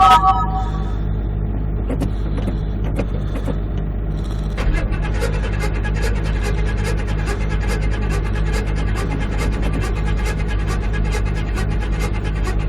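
A truck diesel engine idles steadily after a cold start early in the morning, a loud, constant low rumble with a rapid ticking clatter throughout. A few brief voice sounds come near the start.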